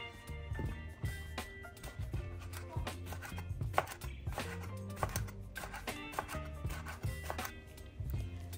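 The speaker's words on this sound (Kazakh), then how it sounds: "4 бөлікке бөліп, видеодағыда көрсетілгендей кесіп аламыз." A knife chops eggplant on a cutting board in quick, irregular knocks, close and moderately loud, with a steady repeated rhythm throughout.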